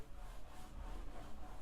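Sanding during construction work downstairs in a house, a faint continuous rasping and rubbing heard from a distance, steady without clear pauses.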